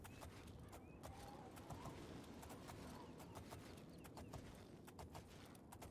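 Horse hooves clip-clop in a steady, even rhythm while riding in The Elder Scrolls IV: Oblivion, with faint ambient outdoor sounds behind them.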